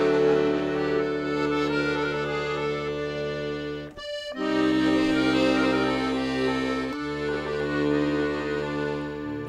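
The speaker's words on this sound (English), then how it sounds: "a doina sounds like this" Slow klezmer doina introduction, long sustained melodic tones with a brief pause midway, close and continuous with no talking.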